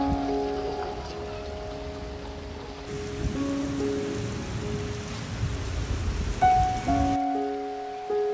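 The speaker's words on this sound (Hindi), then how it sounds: "इतनी खूबसूरत बरसात हो रही है यहाँ पे" Rain falls on surfaces in Qatar, with icy pellets among the drops, as a steady, dense patter heard close by with no talk.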